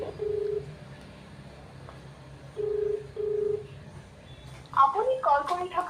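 A phone call is placed: short electronic tones sound in separate bursts, then a ringback or ring tone starts near the end, with talk faint in the background.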